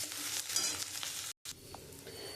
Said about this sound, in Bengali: আদাটা একটু লাল লাল করে ভেজে নেবো।